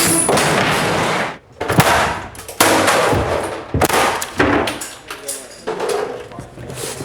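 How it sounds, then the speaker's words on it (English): Squib bullet-hit charges firing across a film set, a string of sharp loud cracks and bursts with clattering debris, spread unevenly over several seconds. "All these wires are connected to all the squibs that are throughout the set."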